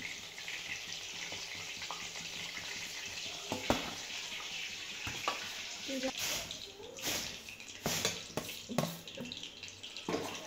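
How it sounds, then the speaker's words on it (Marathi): Fish frying in a pan gives a steady broadband sizzling hiss with scattered crackles and pops throughout, moderately loud and close. "तर आपण तळून घेऊ, मासे काढून घेऊ."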